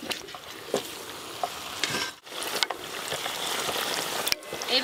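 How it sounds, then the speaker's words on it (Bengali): Dhakai paratha sizzles and fries in hot oil in a pan, a continuous crackling hiss marked by occasional sharp clinks and a brief pause as the oil is spooned over. "পরোটাটা দেওয়ার সাথে সাথেই মাঝখানে এরকম করে গরম তেল দিতে হবে।"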